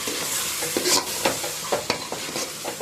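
Mushroom biryani mixture with mint and coriander leaves being stirred in a pot, ingredients frying together: irregular scraping strokes over a steady background sizzle, close and moderately loud, with no talk.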